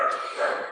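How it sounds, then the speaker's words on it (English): A dog's short, high bark or yelp, sharp and fairly close, lasting under a second. "I apologize for my dogs barking in the background."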